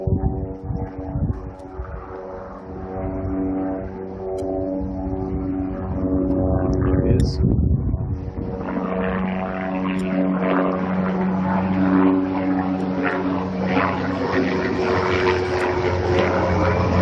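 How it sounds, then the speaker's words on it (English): A low, droning helicopter rotor and engine hum builds and holds steady, growing louder and fuller partway through as the firefighting helicopter with a water bucket comes closer overhead. "And helicopter's coming,"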